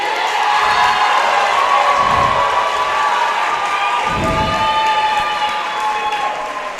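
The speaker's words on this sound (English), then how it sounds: "Let's give one more round of applause for Kate." A loud crowd cheers, claps and whoops for a senior athlete at a Canterbury School conference game, forming a steady roar from start to finish with a few louder surges.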